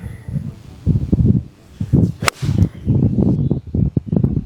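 A golf club swings through and strikes the ball on a windy course, a single sharp crack standing out midway amid gusty rustling and low rumbling.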